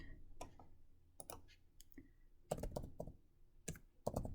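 Typing on a computer keyboard: short bursts of quick, light key clicks in irregular clusters, close and fairly quiet, with no talk.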